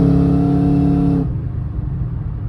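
A fifth-generation Chevrolet Camaro with a boost gauge setup out on a test drive, its engine droning with a steady tonal hum that cuts off abruptly partway through, leaving a rougher low road rumble, no talking.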